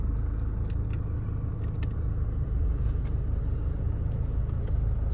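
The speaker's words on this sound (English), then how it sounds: "Start the car up. Sounds absolutely lovely." Land Rover Discovery Sport 2.2 SD4 diesel idling just after start, a steady low rumbling hum close by with faint light clicks on top, no speech.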